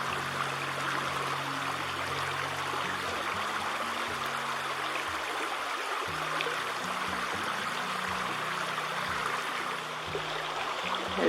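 A stream feeding the Smith River flows steadily, a constant broad rushing wash of water with a low hum running beneath it.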